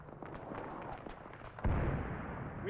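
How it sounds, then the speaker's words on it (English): Artillery shells hitting a factory in the video game Combat Mission Cold War, a string of faint distant thuds followed by a heavier, louder explosion boom that rumbles on to the end. "There's still a few artillery shells left. So we're going to call those in just in general on the factory as well."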